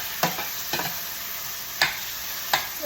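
Fish and black beans fry in a pan with a steady loud sizzle and hiss. A few sharp pops and splatters cut through now and then, close up, with no talking.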